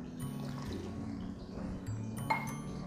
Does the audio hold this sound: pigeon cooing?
no